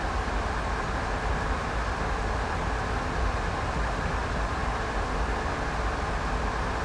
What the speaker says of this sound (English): you might be able to hear an actual real train outside my house right now, about to pass by